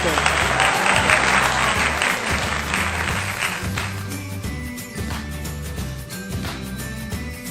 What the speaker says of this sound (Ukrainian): Якщо ви згодні, аплодуйте!